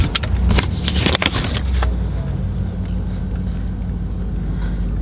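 A bunch of keys jangles briefly and sharply up close for about two seconds, then gives way to the low steady hum of a car interior with no talking.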